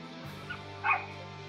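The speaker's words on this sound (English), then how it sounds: "I hear an adorable puppy." Small dogs belonging to neighbours across the street yip once or twice at a distance, faint and brief against a quiet room background.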